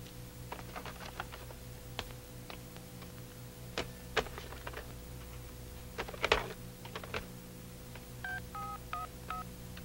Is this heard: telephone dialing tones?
yes